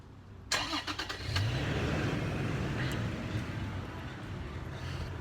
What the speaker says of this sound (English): Let's start the truck again.